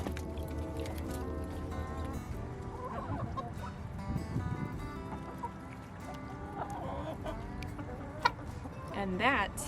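Backyard chickens cluck and murmur while pecking at rabbit scraps, a busy low chatter of hens close by with a few sharper calls and some soft handling noise.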